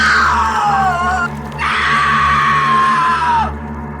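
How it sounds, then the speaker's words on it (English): A woman screams loudly in two long, sustained cries, the second shrill and held before cutting off. "awoken from her daydream by a scream"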